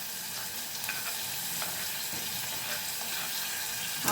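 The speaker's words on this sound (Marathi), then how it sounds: "आपण आता हे सगळं मिश्रण परतून घेऊया व्यवस्थित, तांबूस कलर येईपर्यंत परतून घेऊया." Onion and tomato mixture sautéing in a pan for misal, giving a steady, close sizzle with faint scraping and stirring on top and no voices.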